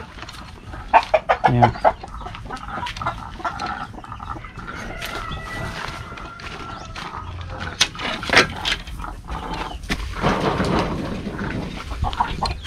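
Free-range Brahma and Kabir chickens cluck and squawk close by in irregular bursts, with several birds overlapping and a brief voice heard among them.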